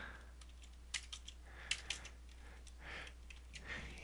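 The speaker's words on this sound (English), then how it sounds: "I'm going to type in please enter state" Typing on a computer keyboard: a few quick, light key clicks in short bursts, close and fairly quiet against a low steady hum.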